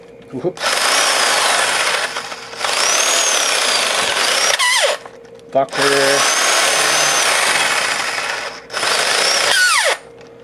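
Corded DeWalt drill boring a hole through a wooden baseball bat, loud and close, running in two long sustained bursts with a whining pitch that drops as the bit bogs down and stops between them.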